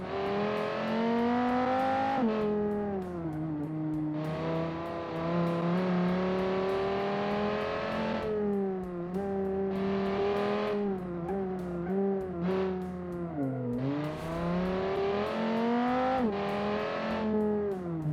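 In a car-tuning video game, a massive stock car engine revs hard and loud, rising and falling through repeated gear changes and brief lifts over about eighteen seconds, with no talking.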